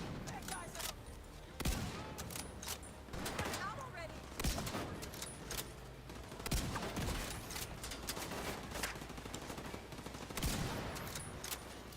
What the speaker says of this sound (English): I'm gonna waste shots here. Just get rid of my mag.